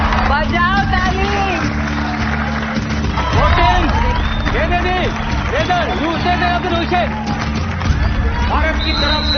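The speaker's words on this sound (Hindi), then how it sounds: "बजाओ ताली" A stadium crowd at a women's kabaddi match between India and Iran claps and cheers in a dense, continuous roar, with voices and a commentator-like speaker audible over the din throughout.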